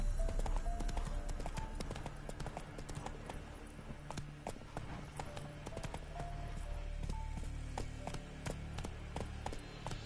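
A horse gallops in a video game: a steady, fast clip-clop of hooves runs through the whole stretch at moderate, fairly even loudness.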